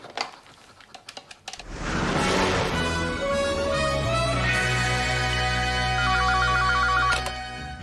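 A telephone rings loudly and steadily in an office setting, its electronic tone repeating for several seconds with a faint clatter before it starts.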